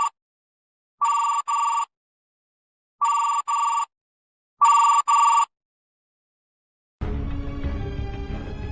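A telephone bell rings in three loud double bursts spaced evenly apart, each a shrill electronic trill, followed by a stretch of broadband noise after the ringing stops.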